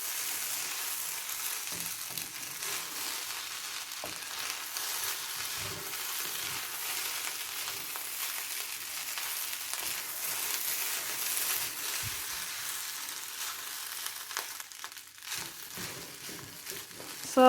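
Tuna fried rice sizzling in a pan, a steady crackling fry with scraping and stirring throughout and a few louder bursts near the end.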